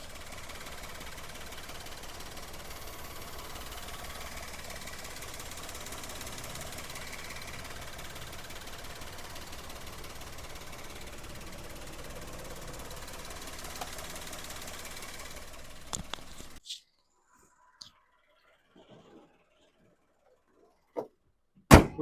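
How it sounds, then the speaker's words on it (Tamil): A 2015 Maruti Alto K10 automatic engine idles steadily up close for about sixteen seconds with a constant low rumble, then cuts off, leaving near silence broken by a few faint clicks. "இப்போ இந்த வண்டியோட இன்ஜின் சவுண்டை நான் மைக்கை பக்கத்தில் வச்சு எப்படி இருக்குன்றதை காட்டுறேன்"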